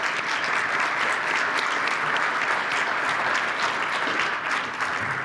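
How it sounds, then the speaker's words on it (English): A conference audience applauds a speaker coming to the stage: dense, sustained clapping from a large crowd fills the whole stretch at an even level. "Let's give him a round of applause."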